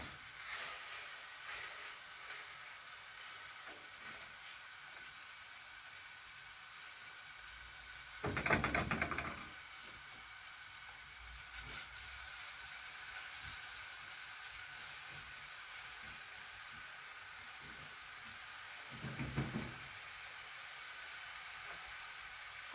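Food sizzling steadily in a cooking pot while making okra tagine, a continuous close hiss of frying with two brief louder bursts of stirring and scraping partway through.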